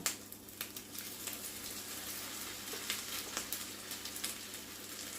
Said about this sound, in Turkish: pirinç köftelerimi bu şekilde kızartacağım.